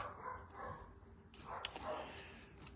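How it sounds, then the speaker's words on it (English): A pet dog barks at the postman indoors, a few faint, muffled woofs and yips spread across a quiet room, somewhat distant and low in level. "my dog's barking. I think that's my postman"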